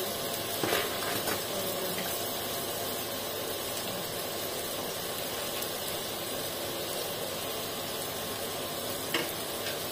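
Vegetable oil sizzles steadily in a pan while fried rice is being made, a dense continuous hiss with faint clinks and stirring scrapes, close and even throughout with no talk.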